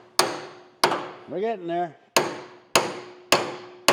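Sharp hammer blows knocking a loose part free from the frame of a 1964 Chevelle Malibu SS: five loud, evenly spaced metallic strikes, each ringing briefly, with a short spoken remark between the first blows.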